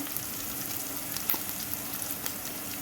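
Chicken liver frying in a pan, a steady, close sizzle with occasional soft pops and crackles that holds at an even level throughout, with no voices.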